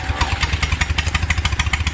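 A rebuilt Palmer 60 V-Drive marine engine runs with a fast, loud, regular chugging pulse and clattering beat, close to the microphone with no voices.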